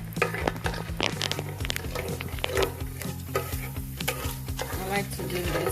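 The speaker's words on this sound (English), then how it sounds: "I have my oil heated up here. I'm gonna put my pimento seeds in." Pimento seeds hit hot oil and sizzle with sharp crackles and pops, while a spoon stirs and scrapes the pan and music plays underneath.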